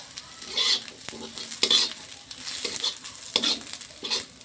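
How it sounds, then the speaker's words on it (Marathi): Patavadi mixture frying in a pan while being stirred, with several distinct scraping strokes of the spoon over a steady close sizzle. "याला पण चांगलं हलवून घ्यायचं"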